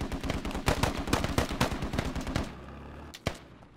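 Rapid automatic AK rifle fire in the video game Squad, a dense string of loud, close cracks for over two seconds, then a low rumble and one final sharp shot.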